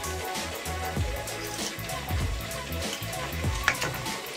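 Tomatoes sauté in a pan for Tamil-style tomato chutney, with a continuous moderate sizzle and scattered crackles and soft stirring scrapes; no voice is heard.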